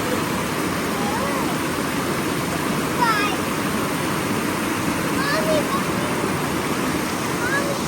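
Steady rushing water from a waterfall at Dogwood Canyon Nature Park, a continuous broadband roar close by, with a few faint bird chirps and a voice briefly above it.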